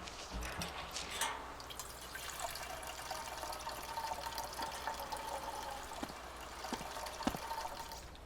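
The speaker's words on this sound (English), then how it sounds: "Now I head back to the car, and I can easily refuel it" In the video game DayZ, fuel pours from a jerry can into a car with a soft, steady liquid trickle and scattered drips. It stays faint and continuous throughout with no talking.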